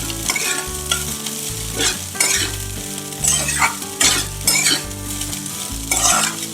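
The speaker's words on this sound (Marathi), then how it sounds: "तर आता आपण हे पण भाजून घेऊया। बारीक गॅसवरती भाजून घ्यायचं।" Flattened rice being dry-roasted in a pan over low gas, with a spatula stirring and scraping in repeated bursts over a soft, steady sizzle and occasional metal clinks, close and alone without voices.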